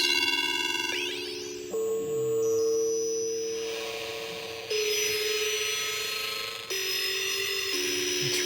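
Loud buzzy bitcrushed square-wave synth tones from a very low sample rate step between pitches, harsh and gritty with dense bright overtones, held notes changing every second or two with no voices.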